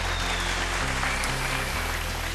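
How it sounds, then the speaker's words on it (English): An audience at a televised vocal competition show applauds in a brief, steady wash of clapping over a low musical bed, moderately loud and without talk. "Last round of applause for all our production partners."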